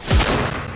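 Gunfire from a video game: a loud burst of shots at the start that blurs into a dense, sustained rattle of rapid fire filling the rest of the short moment.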